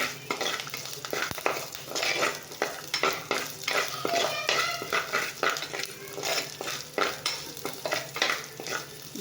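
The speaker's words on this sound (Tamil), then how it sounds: "இதை நல்லா வதக்கி எடுத்துக்கோங்க" Garlic thokku being sautéed in a pan, a close sizzling fry broken by rhythmic scraping strokes of a spoon against the pan, repeating steadily through the whole stretch with no talking.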